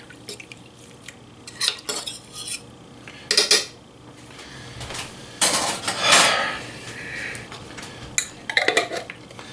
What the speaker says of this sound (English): kind of give this a little stir-ish